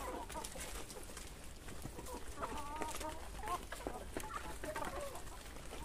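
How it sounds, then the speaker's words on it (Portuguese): Many young pullets and cockerels cluck and peep together in a farmyard pen, producing a busy, continuous chorus at moderate volume. "Aqui são tudo franga e frango novo."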